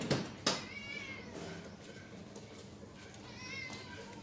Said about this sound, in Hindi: देखिए मिट्टू हमारा किस तरह से बिल्ली को डरा रहा।